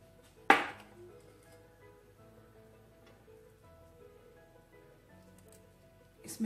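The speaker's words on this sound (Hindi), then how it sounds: "अनियन को इस तरह से हम कट कर लेंगे।" A knife chops through an onion in a home kitchen: one sharp, close cut near the start and another at the very end, separated by quiet background music.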